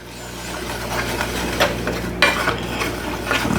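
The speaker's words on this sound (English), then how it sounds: "we're going to mix this in good" A spoon stirs a flour mixture in a pan for a country-style breakfast, scraping and clinking steadily against the metal up close, with a light sizzle underneath and a sharper knock near the end.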